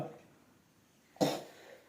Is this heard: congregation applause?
no